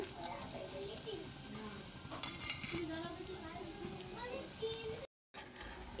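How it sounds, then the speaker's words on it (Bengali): Soaked flattened rice is being stirred with turmeric in a pan for chire pulao, giving a soft continuous scraping and light sizzle close by, with occasional faint voices in the background. "সব ভালো করে একসাথে নেড়ে নেব"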